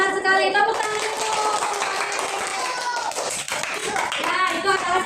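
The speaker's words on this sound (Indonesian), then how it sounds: "Benar sekali, tepuk tangan dulu" A classroom of students claps their hands together in brisk, fairly close bursts, with children's voices heard alongside the clapping.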